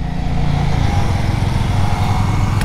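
A Royal Enfield Classic 350 motorcycle engine runs steadily and loudly up close, its low rumbling idle chugging evenly throughout with no voices.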